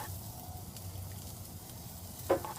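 Potatoes and onions sizzle softly in a pan on a camper-van stove. A low crackle is broken near the end by one sharp knock of a utensil.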